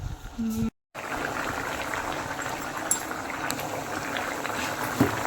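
Tender cashew curry bubbling at a boil in a pot, a steady close hiss and burble with occasional pops, after a brief cut at the start.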